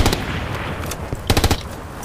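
Mounted machine gun firing in the game Hell Let Loose, sharp bursts of rapid close shots in two clusters with a pause between.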